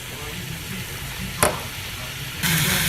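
Roast searing in olive oil inside a Ninja Foodi on high sear: a continuous hissing sizzle with a sharp clack partway through and a louder burst of sizzle near the end.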